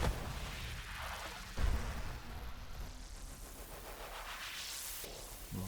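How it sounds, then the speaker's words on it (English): Enemy ships blowing up in the space shooter game Nova Drift, a steady run of crackling bursts and whooshing blasts with a louder thump partway through, with no voices. "I love how they explode with the rapture."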